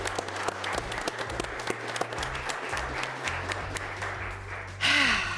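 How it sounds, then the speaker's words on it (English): Steady audience applause at a climate competition grand final honoring the top 16 finalists, moderately loud and continuous, ending in a brief burst of louder noise. "one final applause for the top 16 finalists of this year"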